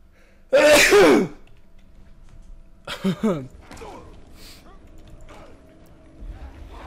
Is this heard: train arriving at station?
no